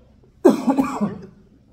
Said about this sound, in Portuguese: Peço até desculpa pela tosse aqui